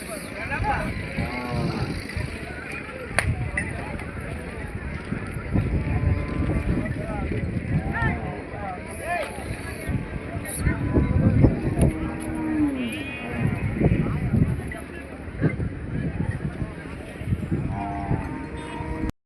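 Cattle and bullocks at a busy livestock market in Gadag, with low moos rising repeatedly through a steady crowd murmur and nearby voices talking throughout.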